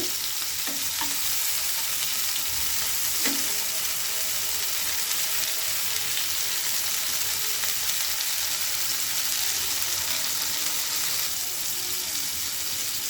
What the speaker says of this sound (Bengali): চিংড়ি মাছটা একটু ভালো করে ভেজে নিতে হবে